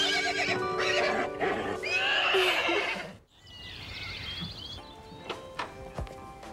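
A horse in the animated riding series Grand Galop lets out a loud, shrill whinny up close, followed by quieter hoof clops, faint bird chirps and scattered knocks.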